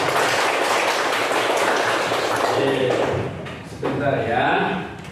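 Schoolchildren in a classroom clap their hands together, a loud burst of dense clapping for about three seconds that then gives way to a teacher's voice.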